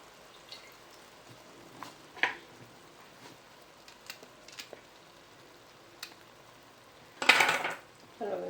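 A spoon scrapes and clinks in a pan while dry jinga and ridge gourd curry is stirred, with scattered soft taps ending in a louder burst of scraping.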